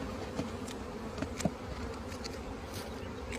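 Honeybees buzz inside a jar near the start of an alcohol wash at a beekeeping association meeting, a steady close hum under outdoor background noise, with no speech.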